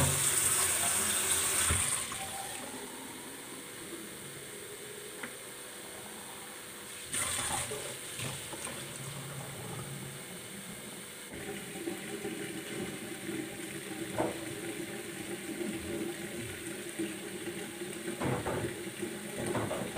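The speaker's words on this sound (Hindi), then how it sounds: "मैं अब जल्दी से फटाफट से पानी भर लेती हूँ" Tap water runs and gushes in a home kitchen or bathroom while bottles are filled, a steady watery rush with breaks and shifts in flow, fairly close and moderately loud.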